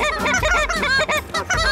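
Speckle-bellied geese honking loudly and close during a goose hunt, a dense overlapping chorus of many calls with rising, chattering yelps filling the whole stretch.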